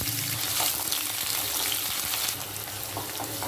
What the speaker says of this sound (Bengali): গোটা মশলাগুলো তেলে ভেজে নেব।